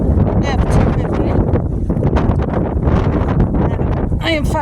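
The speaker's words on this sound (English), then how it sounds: "it's like really windy" Strong wind buffets the microphone outdoors beside a lifted 2003 Ford F-250 pickup, a loud, continuous rumbling roar with gusty swells that fills the whole stretch.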